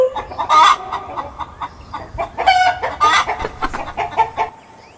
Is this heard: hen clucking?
yes